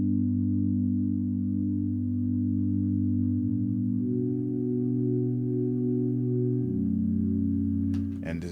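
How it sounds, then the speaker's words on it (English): A sustained 'Simple Sign' synth pad from Expand plays low, warm chords that shift twice, held smoothly and alone with no talking, ending in a brief click. "this pad I got it from Expand, and it's called the Simple Sign"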